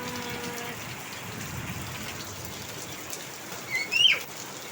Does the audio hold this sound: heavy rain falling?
yes